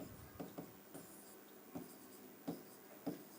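Chalk or marker writing on a board during a lecture, a few faint scratchy strokes spaced irregularly over a quiet room, with no talk.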